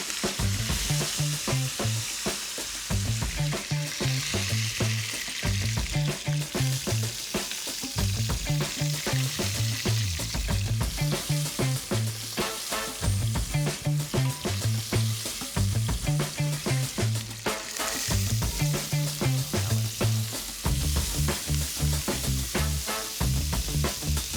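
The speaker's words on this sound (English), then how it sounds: "Now we've got some beautiful colour on those onions. They're sweated off, a little bit roasty, toasty." Onions and garlic sweating in a frying pan for osso bucco, a constant close sizzle with a rhythmic stirring scrape running all the way through, no voices.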